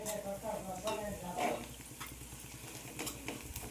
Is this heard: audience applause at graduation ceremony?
no